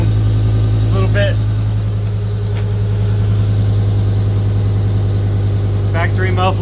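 A 2010 BMW E60 M5 with no catalytic converters, gutted headers and secondaries, an X-pipe and factory mufflers idles loudly and steadily with a deep, rumbling drone. Faint voices come through briefly over it.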